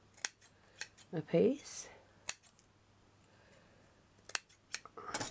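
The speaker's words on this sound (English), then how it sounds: "which I'm just going to snip out" Scissors snip out a piece of material for a miniature Romany Gypsy caravan model, giving a few sharp close clicks and one longer cut, with someone talking quietly between the snips.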